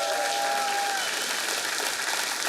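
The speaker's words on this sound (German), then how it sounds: "Ja, Applaus an Anna" Studio audience applauding on a German comedy show, a dense steady wash of clapping throughout with a brief voice at the start.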